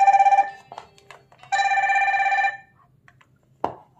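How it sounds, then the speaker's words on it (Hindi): Fire-Boltt Phoenix Pro smartwatch playing its incoming-call ringtone: bright electronic tones in a short pulsing burst, then a longer sustained ring, ending in a small tap, loud and close. "आपकी वॉच में रिंगटोन और वाइब्रेशन होगा।"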